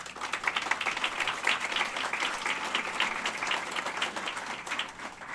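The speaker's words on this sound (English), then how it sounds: "So give yourselves a round of applause." Applause from a crowd gathered at a hospital's 50th anniversary celebration, with a continuous, even wash of many hands clapping at moderate distance, steady throughout without pauses.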